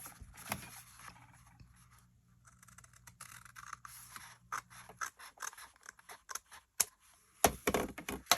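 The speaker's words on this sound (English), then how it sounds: "I'm definitely want to cut this little piece off right here" Scissors cutting a piece of paper for a no-sew journal: close, quiet snips and scraping paper rustle, irregular and sparse at first, then denser and louder toward the end, with no talk.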